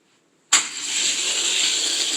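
Video game race cars, a Corvette Z06 and a yellow McLaren P1, burst into sound after a moment of silence, a sudden engine roar that settles into a loud, sustained high-pitched whine.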